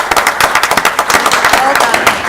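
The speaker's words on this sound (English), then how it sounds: "Give her a big round of applause." Audience at a town council meeting breaks into loud applause, dense rapid clapping close by, sustained throughout, with voices mixed in.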